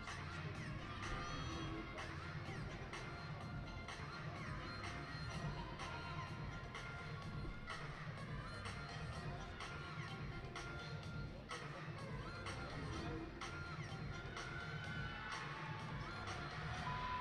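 Olympic gymnastics crowd at the London 2012 Games cheering after a women's floor routine, a dense, steady roar of applause and shouts filling a large arena.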